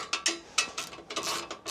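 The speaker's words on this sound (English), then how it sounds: "the 2 bolts on the cross member just need to be removed" Ratchet loosening the two cross member bolts on a 2024 Ford Ranger Raptor, heard as a few short, close mechanical clicking bursts spaced irregularly, with no talk.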